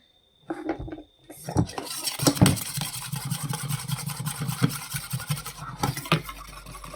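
A utensil scrapes and clinks against a metal vessel while Kashmiri chili powder, turmeric and salt are mixed together. Irregular clatters and rubbing strokes sound close, with a low hum running underneath.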